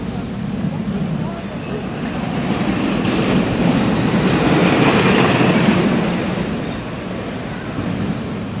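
A wooden shuttle roller coaster train rumbles past nearby, a steady mechanical roar that swells in the middle and then eases off, with voices faintly underneath.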